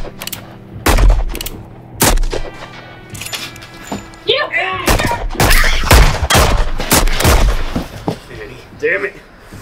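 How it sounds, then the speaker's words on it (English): A gunfight in a western short film brings sharp, loud gunshots in scattered bursts and rapid volleys, with shouting voices mixed in between and under the shots. "Should've thought about that before he started shooting at us!"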